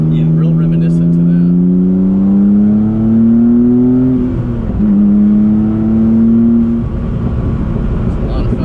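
Rossion Q1 supercar engine droning steadily from inside the cabin while driving, pitch rising gradually then dipping briefly with a shift before settling, loud and continuous throughout.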